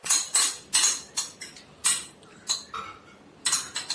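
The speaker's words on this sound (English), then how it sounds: "We will take some mayonnaise and mix it well." Mayonnaise stirred in a bowl for a no-cook recipe: a rapid series of close, sharp clinks and scrapes of a spoon against the dish, roughly evenly spaced, with no talking.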